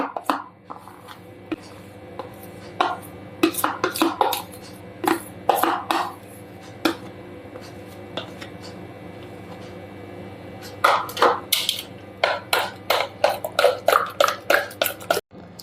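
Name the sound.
stirring sour cream and condensed milk in a bowl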